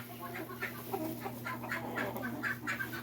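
Several Silkie chickens in a black and white color mix cluck and murmur close by, a steady run of soft overlapping clucks over a constant low hum.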